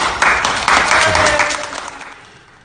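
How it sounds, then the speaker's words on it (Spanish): A studio audience on a live Argentine television talk show gives a short round of applause for Atlético, loud and close, starting abruptly and then fading out over a couple of seconds. "otro aplauso por Atlético, a ver."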